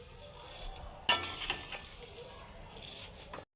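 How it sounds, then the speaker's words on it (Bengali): Vermicelli fries in ghee in a wok with lentils, a soft, continuous sizzle broken by a sharp stir-and-scrape clatter near the middle, fairly quiet and alone. "দিয়ে আস্তে আস্তে একটু ভালো করে ভেজে নেব।"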